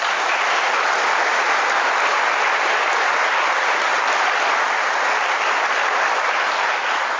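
Sustained applause from a large audience at a religious gathering, a dense, steady wash of clapping that holds at full strength for the whole stretch with no voices over it.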